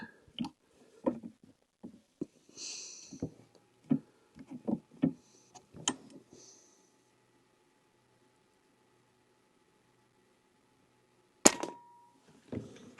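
A custom-rebuilt Hajimoto UX Gauntlet PCP air rifle fires one sharp, loud shot near the end, after a run of soft handling clicks and taps in an otherwise quiet setting.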